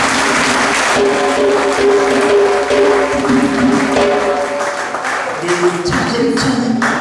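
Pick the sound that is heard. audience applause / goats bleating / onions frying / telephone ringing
audience applause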